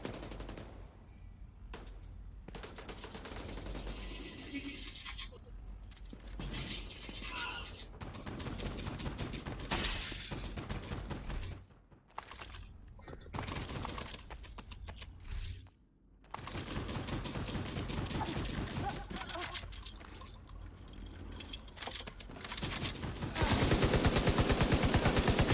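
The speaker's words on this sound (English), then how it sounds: "Is that a robot shooting at us or what?" Sustained automatic gunfire from a heavy gunner enemy in the video game The Division 2, dense rattling bursts running almost continuously with brief pauses, loud and close over game ambience.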